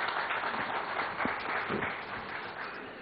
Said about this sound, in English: let's give Odisha a warm round of applause just for that achievement